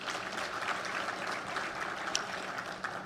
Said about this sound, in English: May we give her a round of applause.